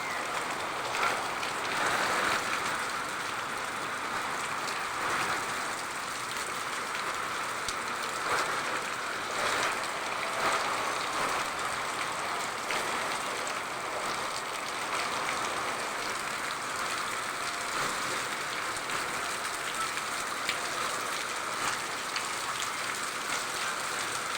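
Steady rain falls continuously outdoors, a dense, even hiss of drops hitting surfaces that stays at a constant moderate level throughout with no talk.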